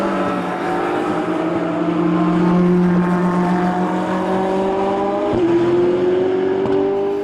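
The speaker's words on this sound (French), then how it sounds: "Van de Vostin, leader, lui, sur sa Porsche numéro 1, mais désormais poursuivi par la Ferrari 458 numéro 40" Race cars howl around the Dijon-Prenois circuit, a Porsche and a Ferrari 458 among them, engines loud and close with rising pitch as they accelerate and a sharp gear change near the end.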